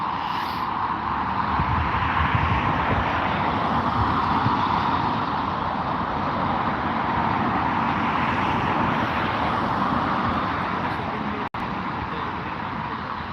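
A small aircraft on the runway at Heathrow airport, heard as a steady, loud, broadband roar that holds constant for the whole stretch, with no voices over it.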